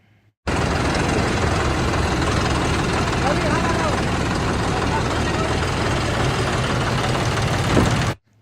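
A new 2024 John Deere 5075E 4WD tractor with an AC cabin runs its engine at a steady idle, a loud, close, unbroken diesel rumble that starts abruptly and cuts off near the end, with no talk over it.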